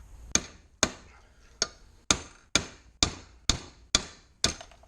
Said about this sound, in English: Pop this rivet out.